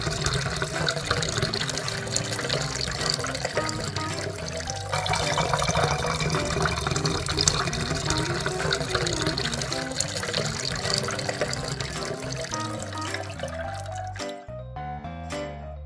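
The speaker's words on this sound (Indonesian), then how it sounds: "Keran A dibuka setengah, sedangkan keran B dibuka penuh." Water rushing steadily from taps, one opened halfway and one fully, a dense continuous splashing flow that stops near the end.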